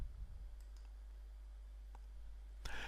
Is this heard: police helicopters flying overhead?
no